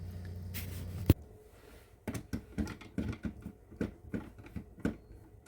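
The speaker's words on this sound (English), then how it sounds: "Next thing to do then is going to be open up all the screws in these holes on the back cover." Small screws are worked loose from the back cover of a SmartSafe D01 tablet, giving a quick series of light, close clicks and taps after a brief rustle.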